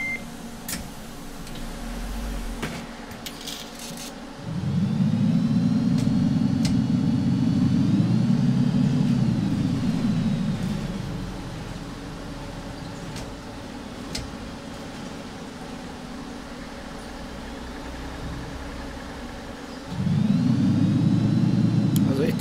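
MAN NL 233 CNG city bus engine in OMSI 2 at night, a loud droning roar that rises as the bus pulls away, holds for several seconds, fades to idle, then swells again near the end, with a voice talking over it.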